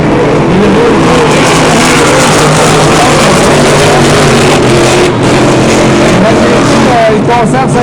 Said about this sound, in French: Le son du moteur qui ne semblait pas bien